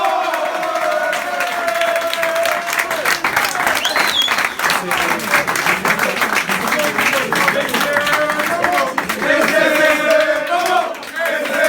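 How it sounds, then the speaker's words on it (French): A stadium crowd at a Stade Nantais rugby club event gives a thunderous round of applause for a player's first try. Dense, sustained clapping and cheering run loud throughout, with some faint tonal sounds underneath. "Je vous demande un tonnerre d'applaudissements pour Anthony Larion."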